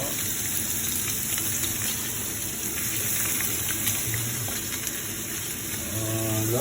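Shrimp sear in a hot pan for risotto with a steady, close sizzle and crackle, plus a few faint clinks and scrapes as the cooking goes on.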